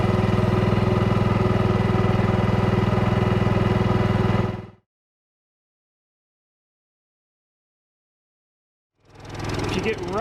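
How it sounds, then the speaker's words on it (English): An Onan QG2500i inverter generator runs steadily with a throbbing exhaust pulse, cuts to silence for a few seconds, then starts up again. "you can distinctly hear the pulse from the exhaust note"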